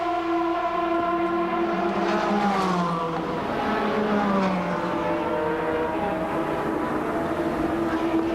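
An Ascari sports prototype racing at the Barcelona circuit during a 2001 FIA Sportscar Championship round, its engine note loud and close, a steady high whine rising and falling in pitch as it passes, with no talking.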